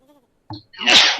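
A single loud, close sneeze, a short sharp intake then an explosive burst, preceded by a faint murmur in an otherwise quiet room.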